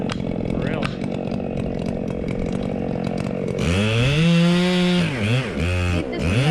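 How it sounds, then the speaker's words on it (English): A chainsaw cutting up a big tree, first a rough steady chatter as the chain bites wood, then loud revving whines rising and dipping in pitch, close by, with voices faintly underneath. "we're cutting some trees up at the house"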